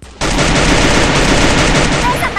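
Sustained rapid automatic gunfire from a weapon in a shooter video game rattles loudly and continuously for about two seconds after a brief quieter lead-in.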